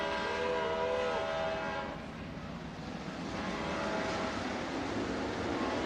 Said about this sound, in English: a train sounds a salute in the background